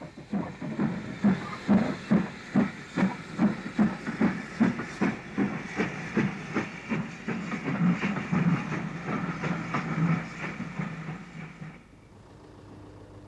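A steam locomotive hauling a replica train on a heritage railway rumbles past close by with rhythmic chugging beats and a steady hiss, fading to quiet near the end.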